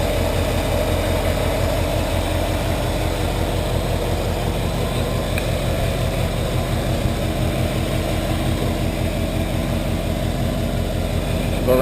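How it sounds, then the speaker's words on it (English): A 1967 Ford F-series pickup's V8 idles steadily at the exhaust, with an even, rhythmic low burble held constant at close range. "let you listen to the exhaust. It's really nice and even. Has a good tone to it too."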